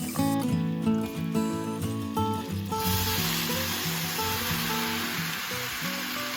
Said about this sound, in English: I'm also adding the nuts and the apples. And then I let it cook for about 5 minutes.